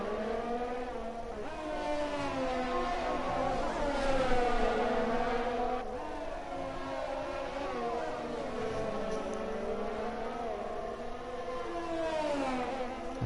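Two Alfa Romeo race cars on the final lap of a Formula 4 race at Abu Dhabi in a racing video game, engines whining steadily with rising and falling revs through gear shifts, sustained and fairly loud.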